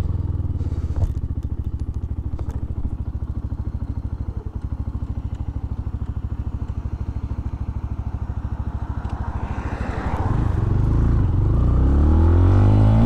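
Benelli BN125 motorcycle at low speed doing small maneuvers, a steady close idling engine putter with a rhythmic low pulse, rising into a louder rev toward the end.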